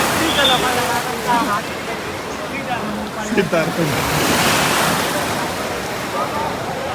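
Surf washes steadily onto a beach, a broad continuous wash of breaking waves with wind across the microphone, while people talk nearby over it.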